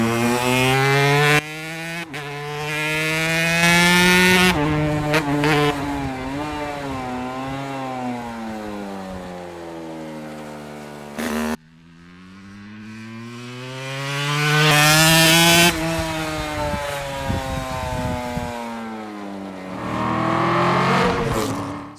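Langen two-stroke cafe racer motorcycle riding laps, its buzzing engine rising through the gears with sharp revving climbs, brief drops at each shift, and a louder pass near the end.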